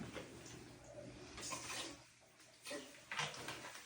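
Water gurgling through a shower head and sink pipes in a vacant house being winterized, heard as faint, uneven rushing surges with brief pauses, somewhat distant, with no talk.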